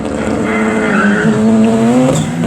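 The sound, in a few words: drag racing car launching off the start line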